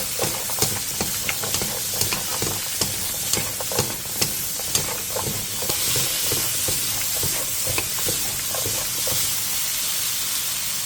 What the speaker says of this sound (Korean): 그 다음 브로콜리를 제외한 야채들을 넣은 뒤 다진 마늘 한 스푼과 소금 1티스푼을 넣고 센 불에서 3분 정도 볶아주세요